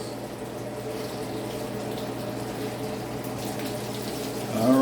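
Butter sizzles steadily in a hot skillet as burger buns toast for a serrano pepper Juicy Lucy, a constant close hiss and crackle that swells slightly at the end.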